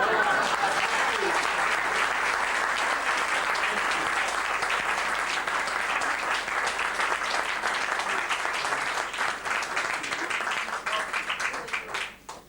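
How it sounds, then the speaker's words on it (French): At a 1996 trucking award ceremony, the audience breaks into sustained, dense applause that holds steady and loud, then tapers off near the end, with faint voices mixed in. "Et on l'applaudit."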